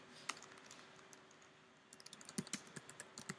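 Typing on a computer keyboard, close and fairly quiet: sparse single keystrokes at first, then a quicker run of crisp clicks in the second half, with no voices.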